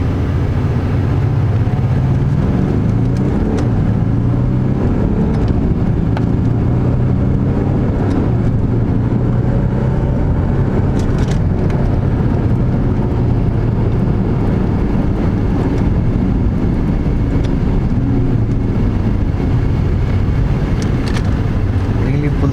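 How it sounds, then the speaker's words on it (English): A Maserati Quattroporte diesel sedan's engine and exhaust drone continuously and loudly as it drives, a steady rumbling roar with no break. "let's do a little bit of a run here so that you can listen to the exhaust notes"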